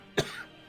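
A single sharp, close cough bursts out once and is followed by a brief throaty trailing breath, then quiet room tone.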